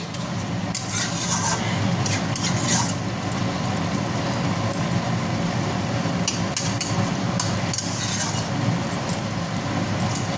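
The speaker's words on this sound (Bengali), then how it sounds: "একটু নাড়া দিই।" A spoon scrapes and stirs steadily through a thin curry of ridge gourd, potato and fish roe simmering in a pan, with a soft constant sizzle and occasional louder scrapes near the start.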